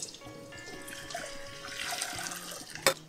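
Strained jaggery syrup poured back into a pan, a steady liquid splashing and trickling flow with a brief louder spill near the end, close and alone.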